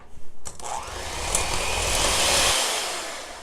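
An electric mixer starts up with a few knocks, then whirs steadily as it beats an egg into banana muffin batter. It cuts to a lighter hum near the end. The sound is close, with no talking.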